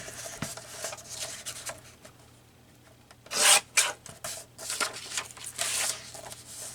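Paper or craft material is cut with a trimmer in a quiet room, heard as soft rubbing and scraping strokes followed by a few louder, sharper rasping passes near the end.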